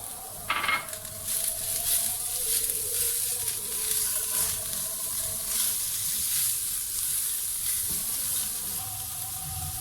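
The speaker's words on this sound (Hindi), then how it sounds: "1 मिनट के लिए हमने उन सब्जियों को भून लिया था।" Onion, green chillies and carrots sautéing in a pan for samosa filling, with a steady close sizzle, a brief louder burst near the start and light stirring throughout.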